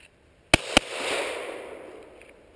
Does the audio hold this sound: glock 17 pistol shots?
yes